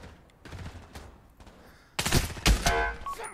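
Gunfire in the VR shooter Pavlov, with soft thuds and movement at first, then a loud burst of rapid shots near the end, close and sharp.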